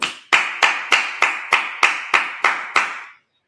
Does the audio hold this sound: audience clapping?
yes